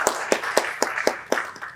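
A small audience in a lecture setting claps for themselves, a steady rhythmic run of about seven close, even claps spaced roughly a quarter second apart, with no voices over it.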